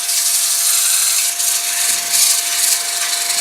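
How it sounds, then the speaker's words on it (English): 100 grit sandpaper rubs against a turned wooden plate spinning on a lathe at slowed speed, a steady loud hiss with a faint motor whine underneath and slight swells in pressure. "sand that out until I don't see any more tool marks"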